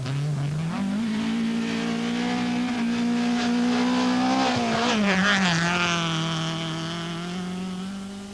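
A works Datsun Stanza rally car on a stage at the 1983 South Africa rally, its engine revving hard through the gears with a rising and falling whine and a tyre squeal, loud and close.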